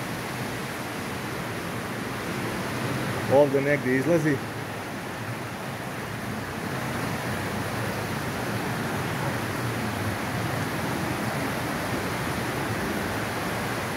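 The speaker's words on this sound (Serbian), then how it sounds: "To je taj vodopad" Steady, broadband rush of a waterfall at Stopića Cave, Serbia, fills the whole clip, with a brief spoken remark near the start.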